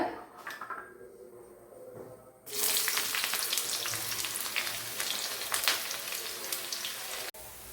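Oil crackles and hisses loudly as shallots drop into the pan after mustard seeds have popped, settling into a steady, dense sizzle that continues throughout.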